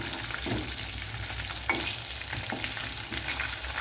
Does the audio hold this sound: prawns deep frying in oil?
yes